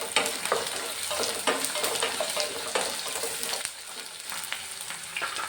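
Garlic and ginger sauté in a pan for gooseberry pickle, a busy crackling sizzle that keeps up throughout, with repeated stirring scrapes and no talking.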